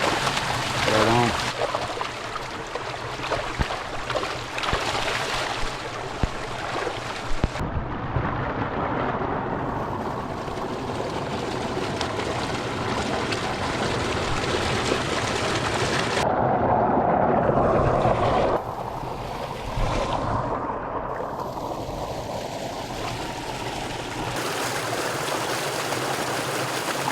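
A small creek flows at a wilderness campsite in a park. The water rushes steadily and close by across the whole stretch, with brief shifts in texture.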